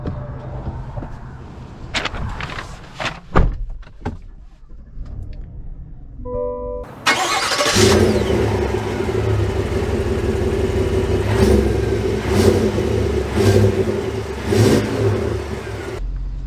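A 2023 GMC Yukon Denali Ultimate SUV starts up with a few short clicks and thumps, then its engine catches and settles into a steady, loud idle and rev as it pulls away, with a rhythmic pulsing through the run.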